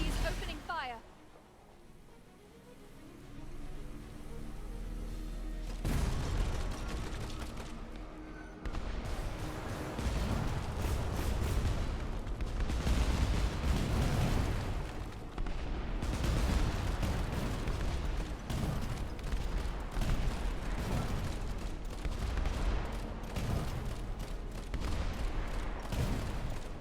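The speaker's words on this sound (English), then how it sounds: "Enemies opening fire." Enemy airship gunfire in the video game Airship: Kingdoms Adrift, heard as dense, continuous booming volleys and rumbling blasts that run steadily and loudly for most of the stretch, with a voice talking over them.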